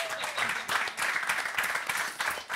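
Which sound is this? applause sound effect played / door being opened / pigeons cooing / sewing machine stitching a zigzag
applause sound effect played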